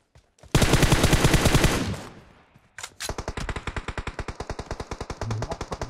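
Automatic weapon fire in PUBG Mobile: a loud, fast burst of rapid shots lasting over a second, then a short pause, then a longer steady volley of evenly spaced rounds that sounds slightly more distant, with no talking over it.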